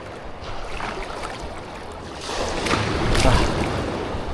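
Sea waves washing over a rocky beach with sea urchins at Calatagan, Batangas, a steady wash that swells louder in the second half, with no voices.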